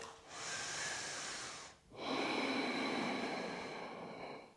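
Slow, deep breathing during an energizing yoga flow: one long, close, airy breath, a brief pause, then a second long breath that fades gradually, with no talking.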